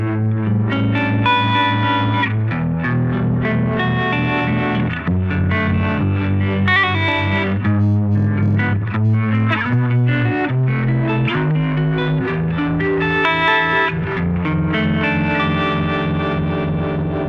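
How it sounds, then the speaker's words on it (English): Electric guitar chords through a Koch "The Greg" amp's harmonic vibrato, a wavering, pulsing, univibe-like swirling tone, played steadily for the whole stretch without any voices. "Now if I add this harmonic vibrato,"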